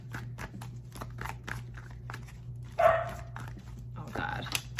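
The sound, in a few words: dog barking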